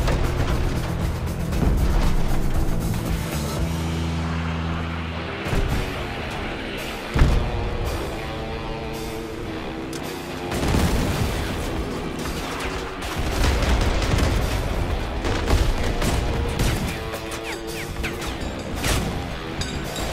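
A fuel barrel and an ammo pack blow up together in a Crossout vehicle battle, loud crashing explosions and heavy thuds layered over continuous gunfire and engine roar throughout.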